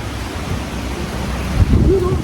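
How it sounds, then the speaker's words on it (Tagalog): Heavy rain pours in Santa Fe, Nueva Vizcaya, a loud, dense and continuous wash of noise with a slight low rumble swelling near the end. "biglang lakas naman ng ulan ngayon, mga kaamigo. Lakas na ulan."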